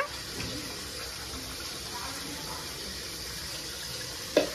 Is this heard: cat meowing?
no